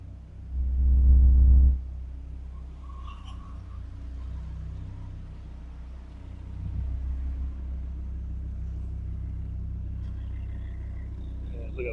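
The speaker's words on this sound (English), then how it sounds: "Oh, there's another Viper rolling on in." A deep engine rumble swells loudly near the start, then a Dodge Viper sports car idles and rolls in with a low, steady growl.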